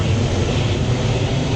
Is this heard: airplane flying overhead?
yes